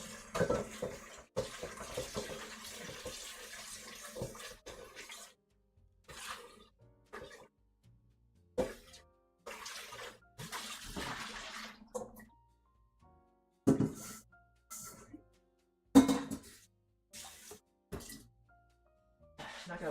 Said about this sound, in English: but I think I'll rinse this bowl.